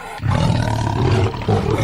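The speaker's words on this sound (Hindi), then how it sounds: "ये तो बाघ के आवाज होती है, बड़ी तेज तेज गर्जना होती है।" A tiger roars loudly and close, a deep sustained growling bellow lasting nearly two seconds with a brief dip before a final surge.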